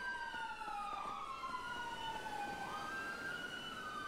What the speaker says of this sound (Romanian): voi auzi sirenele alea